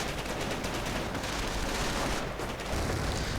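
A grenade goes off amid continuous rattling gunfire on a WWII strategy game battlefield, a dense, loud barrage of shots with no pause.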